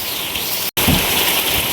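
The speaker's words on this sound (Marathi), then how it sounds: "पण हा पाऊस तर कंटिन्यू चालूच आहे" Heavy rain pours steadily in a dense, hissing wash, with a brief dropout partway through.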